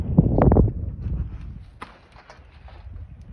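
A horse's hooves thud on the ground in a cluster of low, heavy steps near the start, then quieter shuffling and a sharp tap, close by with light background noise.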